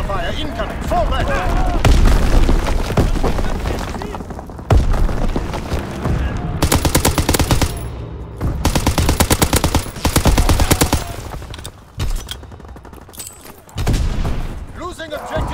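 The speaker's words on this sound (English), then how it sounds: "Enemy mortar fire incoming." Enemy mortar fire lands in Call of Duty: WWII amid a battlefield din: loud booming impacts mixed with long stretches of rapid machine-gun fire, broken by short lulls, while voices talk over the action.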